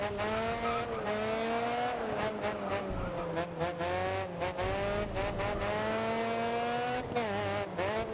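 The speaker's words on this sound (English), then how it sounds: "So it's most likely indeed a Ford Sierra." A Ford Sierra racing in a driving video game, its engine droning and revving loud and steady throughout, with rising and falling pitch and occasional tire squeal, and no talking.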